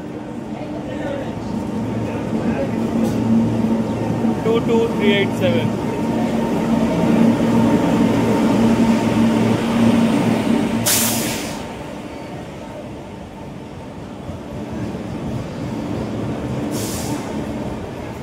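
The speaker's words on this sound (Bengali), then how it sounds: "Howrah Dhanbad black diamond superfast express তার সময়ের থেকে 15 মিনিট লেটে প্ল্যাটফর্মে ঢুকছে।" The Howrah–Dhanbad Black Diamond Superfast Express pulls into a station platform with a steady rolling rumble and wheel clatter that eases partway through, while people talk nearby.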